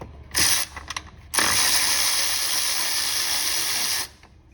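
A ratchet backs out 13mm bolts on the fan shroud lower bracket of a 6.7 Cummins diesel, a brief burst of clicking, a pause, then a long steady rapid ratcheting run that stops abruptly, close and loud.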